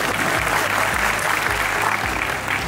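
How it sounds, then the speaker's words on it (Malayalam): A large audience claps steadily at a film's 55th-day celebration event, dense sustained applause filling the space, with loud mains hum pulsing underneath. "പിന്നെന്താ നിങ്ങളെ കൈയടിക്കാതെ?"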